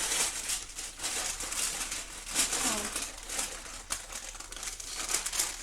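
Parchment paper crinkling and rustling close by as a baked stromboli is lifted off it, with soft kitchen sounds around it.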